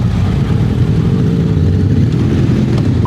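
Another rider's motorcycle running with a broken, odd-sounding engine on a countryside ride near Paris, a steady low rumbling drone held up close and loud against heavy wind noise, with no pauses throughout.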